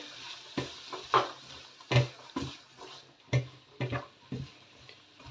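A spoon stirs a sautéed onion mixture in a pan, giving scattered soft clinks and scrapes at an irregular pace, close but fairly quiet against a low background.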